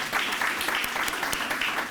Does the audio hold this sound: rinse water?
no